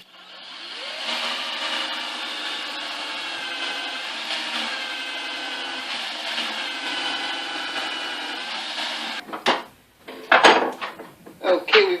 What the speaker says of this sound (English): Okay, first step after drawing it out on the pieces here, will be drilling the hole in the end.